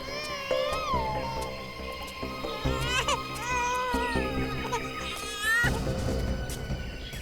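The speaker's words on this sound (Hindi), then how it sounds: "उस तरफ से बच्चे के रोने की आवाज आ रही है।" A baby wails in wavering, rising cries from nearby, heard over a dense, dramatic music bed in a crime drama scene.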